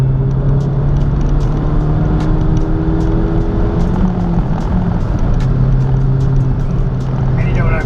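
A Ford Fiesta ST driven at speed on an open road, its engine droning steadily from inside the cabin beneath a constant rush of road and wind noise.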